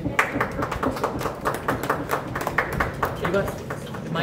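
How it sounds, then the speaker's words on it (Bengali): An audience applauds at the launch of a new jewellery collection, with dense, continuous clapping from many hands, a steady patter mixed with overlapping talk and voices. "হাততালি"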